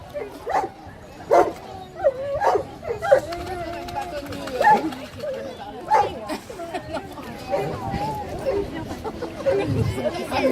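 A dog barks and yips repeatedly during a water rescue dog demonstration, sharp, spaced barks with whimpers mixed among people chatting nearby.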